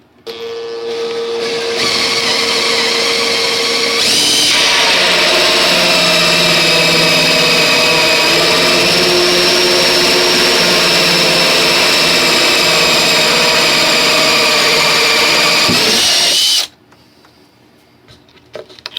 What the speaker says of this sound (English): I'm going to just use my hole saw and just drill a little hole